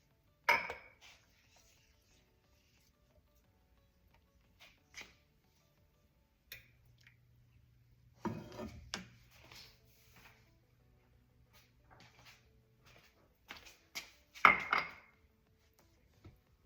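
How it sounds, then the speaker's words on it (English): A spoon stirs a sauce of sesame oil and honey in a bowl while making homemade orange chicken, giving sparse, faint clinks and taps against the dish amid long quiet stretches. "Go ahead and mix and add in the sesame oil and the honey, and then give this a stir."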